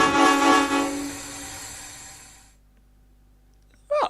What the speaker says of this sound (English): It's a typical American railroad horn.